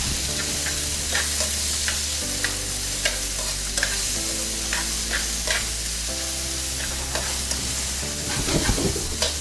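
Chicken lo mein with green onions sautéing in a pan, a steady close sizzle broken by repeated scraping stirs throughout, with a low continuous hum underneath.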